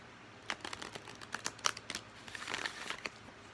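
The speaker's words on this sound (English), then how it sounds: "We'll do 3 shuffles." A deck of oracle cards is shuffled by hand in a quick flurry of soft riffling and slapping clicks, close but quiet, with no talking.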